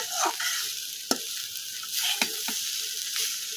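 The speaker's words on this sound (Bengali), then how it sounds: "এখানে আমি লাউ ভাজি করছি" Sliced bottle gourd frying in a pan with light turmeric, giving a steady sizzle cut by several sharp scrapes and knocks of a spatula stirring it, close and without speech.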